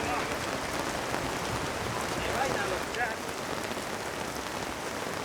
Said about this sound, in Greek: Τι έγινε, σας έπιασε βροχή?